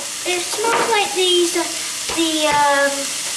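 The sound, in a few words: garlic frying in a pan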